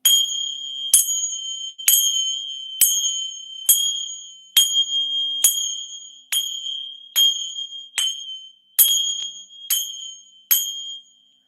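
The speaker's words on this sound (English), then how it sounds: "I use this bell and they hate this shit" A handheld bell rung about a dozen times at a steady pace, each bright metallic ding ringing out and fading before the next, loud and close with no other sound.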